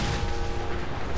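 A big explosion in Fallout 4 fills the moment with a dense, steady low rumble and roar, loud and close, holding evenly with no clear single blast onset.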